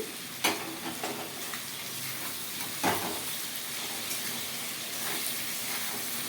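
Potatoes frying in a pan for Bengali alu posto, a steady close sizzle with a few sharp clicks of stirring, no talking.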